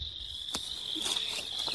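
Newly installed Carniolan honeybees give off a steady high buzzing hum at the hive, quiet and continuous over brief soft outdoor noise, with no talking.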